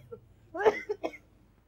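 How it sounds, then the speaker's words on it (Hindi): A woman coughs weakly a few times at a doctor's request, quiet and close in an otherwise silent room. "आप खांसिएगा जरा"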